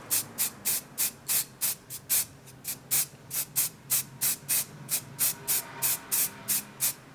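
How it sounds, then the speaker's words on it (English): Short rhythmic bursts of spray paint hiss out of a can in steady repeated pulses as Tyranid miniatures are sprayed outdoors in hot weather, each burst close and fairly loud with brief gaps between. "I also sprayed the miniatures with a glove"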